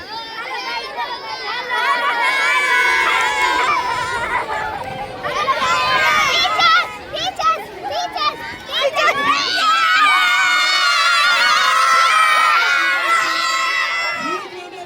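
A crowd of spectators, many of them children, shouts and cheers continuously at a students-versus-teachers football match, loud and close, with excited chatter running throughout.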